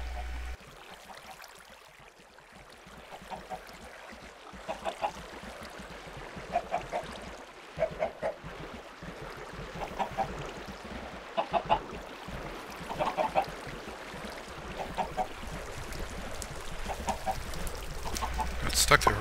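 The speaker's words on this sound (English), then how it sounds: "This is obviously the chicken farm." Chickens in a Minecraft chicken farm cluck in a steady run of short, repeated calls at moderate distance, continuing throughout over a low ambient bed with no talk.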